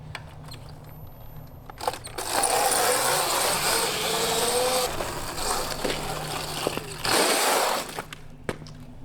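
A Sur Ron X electric dirt bike fitted with a tubeless mountain-bike-style tire setup rides past, a rising whine and tire rush swelling loud for several seconds, then fading and returning.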